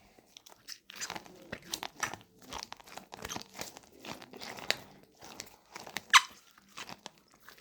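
Fidget toys and pop-its squeezed up close for ASMR make soft crunchy pops and squeaks in an irregular, quiet patter, with one sharper squeak near the end.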